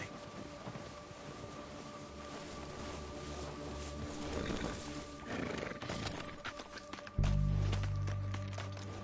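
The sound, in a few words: horse neighing and walking, from a video game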